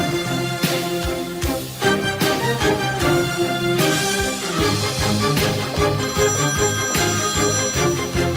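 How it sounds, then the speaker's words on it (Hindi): A telephone rings steadily and loudly in repeated ringtone bursts, mixed into music that fills the whole clip. "तुम फोन नहीं उठाओगे?"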